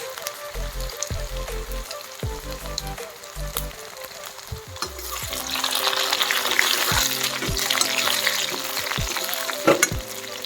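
Ginger sizzling in hot oil with bay leaf and garlic for a lentil dish, a loud continuous frying hiss that swells partway through, with occasional clinks of stirring.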